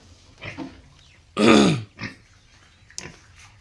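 Pigs grunting close by: a few short grunts, then one loud, drawn-out squealing grunt, followed by more brief snorts.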